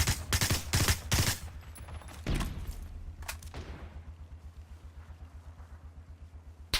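Gunfire in the battle-royale video game PUBG, with rapid bursts of shots close by early on, then a single loud crack and a long run of quieter rhythmic automatic fire trailing off.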